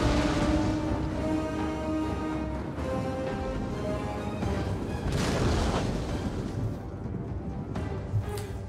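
Soldiers fire during a battle in the game Total War: Attila, a dense, continuous rumbling din of volleys, impacts and crowd noise with occasional louder bursts, loud throughout.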